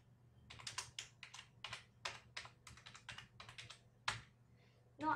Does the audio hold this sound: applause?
no